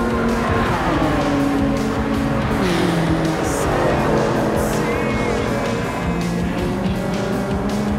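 Race cars roar through the video game Gran Turismo 7, loud sustained engine whine rising and falling through gear changes with tire squeal, cars passing closely in a steady, continuous stream of motor noise.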